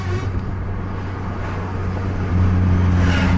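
A bus rumbles along a road on the Aceh–Medan route at an easy pace, a steady low drone that swells slightly louder toward the end.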